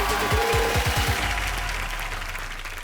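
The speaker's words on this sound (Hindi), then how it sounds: "ताली बजा दे" Audience at a comedy show bursts into sustained applause, a dense wash of clapping that stays loud throughout and fades only slightly toward the end.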